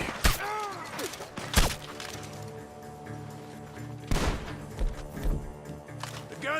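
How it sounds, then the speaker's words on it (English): Gunfire in the video game Red Dead Redemption 2: a few sharp, loud shots scattered across the stretch, with bursts near the start and middle, over a steady game music bed. "The gunshots are coming from that barn."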